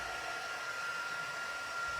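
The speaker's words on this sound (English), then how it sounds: "Our heating gun gets, we have 2 settings on it, and it gets very, very, very hot" A steady, loud rush of blowing air with a constant motor whine, like a heat gun running close by without pause.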